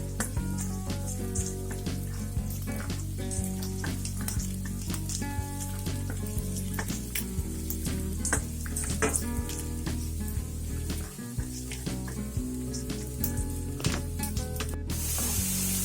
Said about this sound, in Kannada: ನೋಡಿ ನಾನಿವಾಗ ಗಾರ್ಲಿಕ್ ಹಾಕೊಳ್ತಾ ಇದ್ದೀನಿ, ಚಾಪ್ ಮಾಡಿ ಇಟ್ಕೊಂಡಿರುವಂತ ಗಾರ್ಲಿಕ್.